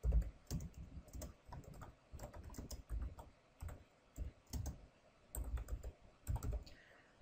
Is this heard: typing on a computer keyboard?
yes